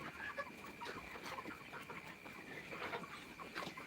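Chickens clucking inside a poultry shed during lifting with the lights switched off, a busy, fairly quiet chorus of overlapping clucks and squawks throughout.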